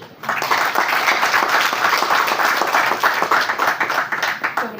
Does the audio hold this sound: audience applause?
yes